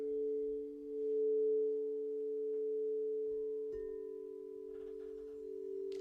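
Singing bowl ringing with a steady sustained pure tone that hums on and slightly shifts partway through, fairly quiet with faint soft knocks underneath and no talking.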